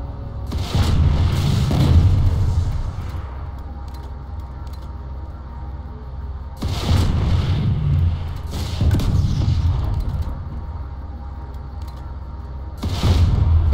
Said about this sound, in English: Now we test the M9 Skep launcher against the front armor of the Mech Rider.